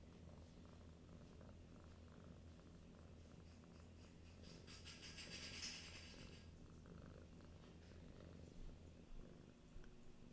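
A cat purrs steadily and softly close by, a continuous rhythmic rumble running under quiet background noise with no talking.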